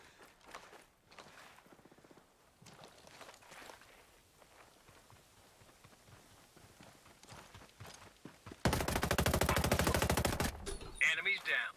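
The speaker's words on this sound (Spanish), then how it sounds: "Enemies down, only a single enemy remaining. They're shooting." Gunfire in the tactical shooter Ghost Recon Breakpoint during a PvP match: scattered shots and footsteps build to a loud, sustained burst of automatic fire near the end, with a speaking voice mixed in.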